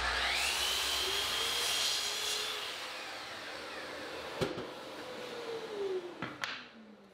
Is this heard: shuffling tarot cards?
no